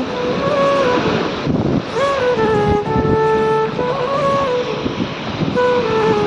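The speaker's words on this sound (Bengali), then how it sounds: "দেখো কত ঢেউ।" Sea waves wash onto a beach in a steady, loud broadband roar with wind buffeting the microphone, while faint tonal whistles or calls drift through in the background.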